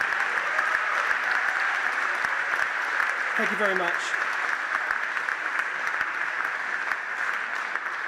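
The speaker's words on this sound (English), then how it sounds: "So a big round of applause for Year 13." Audience applause at a college awards ceremony, a steady dense clapping that carries through the whole stretch, with a brief spoken thanks rising over it partway through.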